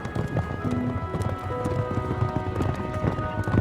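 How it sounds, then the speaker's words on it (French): Gaucho horses' hooves clip-clop in a steady, busy rhythm, several hoof strikes overlapping at close to moderate distance. "Le cheval."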